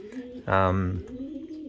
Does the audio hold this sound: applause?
no